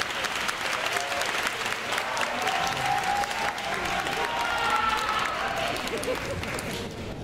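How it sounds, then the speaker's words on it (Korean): An audience at a concert hall anniversary event for a school wind orchestra gives sustained, dense applause that fills the whole stretch evenly, with faint voices mixed in beneath the clapping. "여기서 박수 한번 쳐야 되는데"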